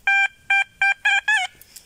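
An old silver coin, a grosz of Stanisław August Poniatowski, rings as it is tapped outdoors: five bright metallic pings in quick rhythm, each with a clear sustained tone, the last ones closer together.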